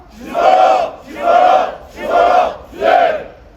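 Crowd of union members at an outdoor press conference chanting protest slogans in unison, four loud rhythmic shouted calls evenly spaced, close and strong.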